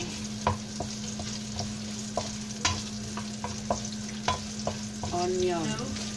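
Chopped onion frying in a pan, a steady sizzle broken by sharp clinks and scrapes of a utensil stirring, with a brief rising squeak near the end; no talking.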